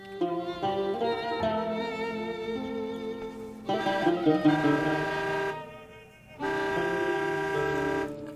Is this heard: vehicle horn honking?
yes